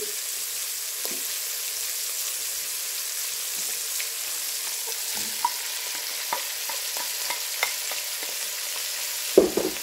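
Green chili frying in a pot of pork stew, a continuous moderate sizzle with scattered light pops and crackles, ending in a louder clatter of stirring.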